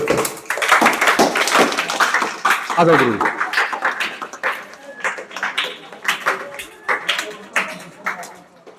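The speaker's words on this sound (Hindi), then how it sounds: "तालियां बजा सकते हो" A class of girls in a computer coaching centre clapping hands, a burst of brisk irregular claps that gradually thins out, with a voice speaking over it.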